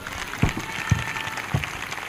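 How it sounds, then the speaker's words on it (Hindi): An audience in a church claps during an Easter service, heard as a few sharp, separated hand claps over a low murmur of the room. "ताली बजाएंगे।"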